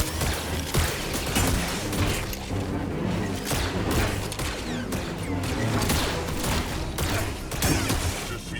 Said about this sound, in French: Je tire sur la cible.